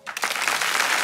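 A theatre audience at a stand-up comedy show breaks into applause, the clapping swelling quickly from near silence into a dense, steady burst.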